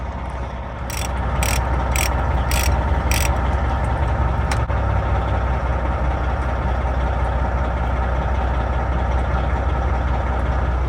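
Five quick ratchet clicks from a 1/2 inch drive extension breaking loose a differential fill plug, then a steady low engine-like hum continuing alone to the end.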